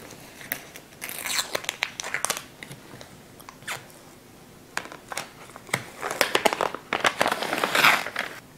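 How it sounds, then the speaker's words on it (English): Crisp crinkling and tearing of paper backing being peeled off fusible appliqué fabric pieces for a sunflower placemat, in short close bursts with quiet gaps between, louder toward the end. "Wait for an edge to pop up and remove the paper backing"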